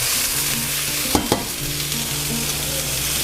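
Meatballs fry in a pan with a dense, loud, continuous sizzle close by, broken by a couple of quick scrapes or turns midway and no voices.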